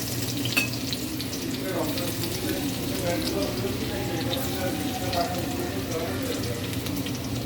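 Garlic sizzles in hot oil in a wok, giving a steady, dense frying hiss throughout with occasional faint clinks, heard close and without talk.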